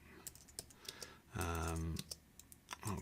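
Computer keyboard keys tapped in short irregular bursts of clicks, close and fairly quiet, with a speaking voice breaking in briefly between the keystrokes.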